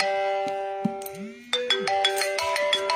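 A phone ringtone plays loudly and alone, a sustained melodic tone pattern that shifts to a brighter repeating jingle partway through, with a few soft knocks underneath.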